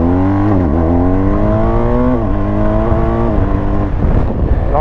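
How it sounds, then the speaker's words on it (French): A BMW R1250 GS motorcycle accelerating hard, its engine note climbing steadily through the gears with a couple of brief dips at shifts, loud and close throughout. "on va aller voir un petit peu ce que ça donne en accel."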